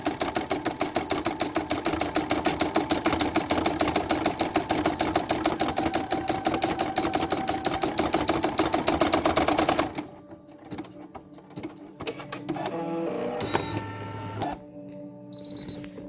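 A Brother PE770 embroidery machine stitches a name onto a shirt, with a rapid, steady mechanical stitching rhythm for about ten seconds before it stops, followed by quieter clicks and a few short beeps.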